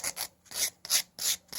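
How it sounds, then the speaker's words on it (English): A wooden fence picket being sanded by hand with well-used fine grit sandpaper, five quick rhythmic rasping strokes, close and clear. "I just sand it down"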